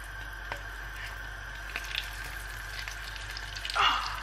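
Hickory pieces sizzle in butter and oil over medium-high heat, giving a steady soft frying hiss with a few faint pops and stirring sounds and a brief louder burst near the end.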